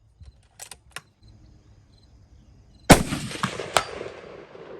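A single loud, sharp crack of a Tikka T3X Lite hunting rifle fitted with a recoil pad fires at the range, preceded by a few faint clicks and followed by a decaying echo.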